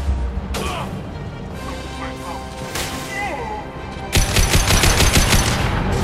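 Heavy gunfire in a shooter video game, scattered sharp cracks and whizzing impacts giving way to a loud, rapid burst of automatic fire, with a player's voice talking over it.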